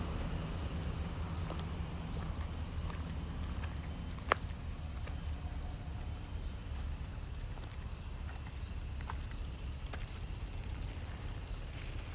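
A constant high-pitched drone of cicadas fills the hot Tokyo air, steady and unbroken, with a single faint click partway through.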